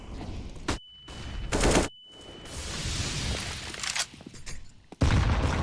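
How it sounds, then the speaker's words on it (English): Bursts of rifle fire and grenade blasts in a professional Counter-Strike match on the Inferno map, with several loud volleys separated by brief silences and a continuous rattle of shots in between. "just when you think you've got a bit of room to work with, the nades come in, and Bubsky down to half HP"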